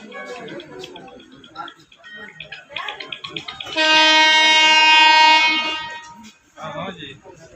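Voices chatter nearby on a platform at Mulki station, then an arriving train's horn blares in one long, loud blast lasting nearly two seconds before the talk resumes.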